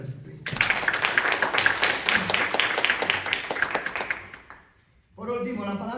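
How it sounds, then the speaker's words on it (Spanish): A church congregation applauding during a sermon, a burst of lively clapping that builds, holds for several seconds and then fades, followed by a voice speaking. "Denle un aplauso a Jesucristo."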